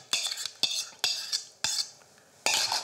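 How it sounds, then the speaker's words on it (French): A utensil stirs a vinaigrette made with mayonnaise, giving sharp clinking scrapes against the bowl in a series of distinct strokes with short pauses between them. "Et là, je mélange"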